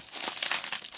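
A package is unwrapped from bubble wrap and tape, producing a brief, quiet burst of close crinkling and crumpling plastic.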